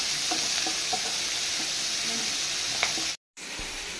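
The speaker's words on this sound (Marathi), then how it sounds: "ओके, टोमॅटो सॉफ्ट जावपा लागून बरें ताका फ्राय करून घेवया." Tomatoes frying with salt in a pan, a continuous close sizzle with soft stirring clicks, briefly cut by a moment of silence near the end.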